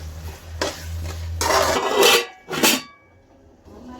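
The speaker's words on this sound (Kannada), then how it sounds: "ಹಸಿ ವಾಸನೆ ಹೋಗೋ ತನಕ ಇದನ್ನು ಫ್ರೈ ಮಾಡ್ಕೊಳ್ಳೋಣ" Ground masala paste for a chicken gravy fries in a pan, heard as short, irregular bursts of scraping and stirring against the metal with quiet pauses between.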